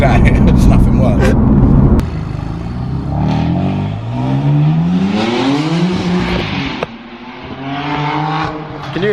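A 650 bhp BMW M4 CS engine revs hard with a loud rising and falling roar, an abrupt change partway through, while people talk nearby.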